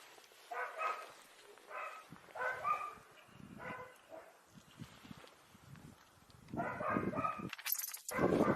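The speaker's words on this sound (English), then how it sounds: "It's like a dog kennel out there." Dogs barking outdoors in a village, several bursts of barking at moderate distance with pauses between, growing louder near the end.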